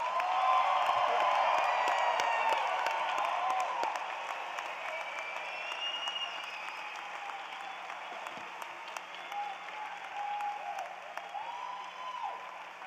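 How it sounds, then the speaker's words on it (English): An audience at a college of nursing commencement ceremony gives the graduates a big round of applause, with sustained clapping and scattered whoops and cheers that ease slightly in volume partway through. "Why don't we have one big round of applause for all of our graduates?"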